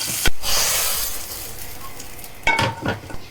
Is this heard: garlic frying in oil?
yes